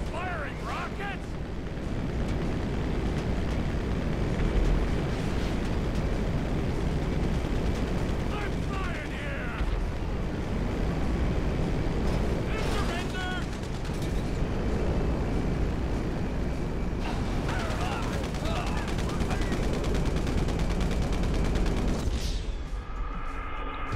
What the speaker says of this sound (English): You're actually firing rockets?